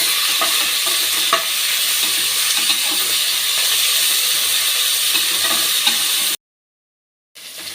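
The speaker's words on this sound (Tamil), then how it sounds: "வெங்காயம் சேர்த்து நல்லா வதக்கி விட்டுடலாம்" Onions sautéing in a hot pan, a dense steady sizzle with occasional stirring scrapes, close and loud, then a sudden brief silence before the sizzle resumes.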